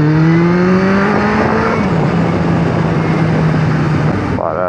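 A motorcycle engine roars close by, revving up in pitch before settling into a steady growl, then cutting down abruptly at the end.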